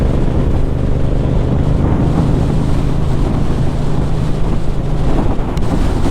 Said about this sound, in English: Must admit it's very windy.